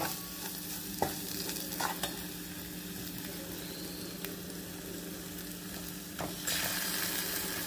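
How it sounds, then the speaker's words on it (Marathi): Ground spice paste with salt, turmeric and coriander-cumin powder sautéing in oil, a steady hissing sizzle with occasional scrapes of the spoon, close and even, rising slightly toward the end. "मग आपण वाटण परतून घेणार आहोत"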